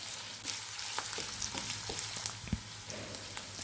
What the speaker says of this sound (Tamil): வெங்காயம் சேர்த்துட்டு நல்லா வதக்கி விட்டுக்கலாம்.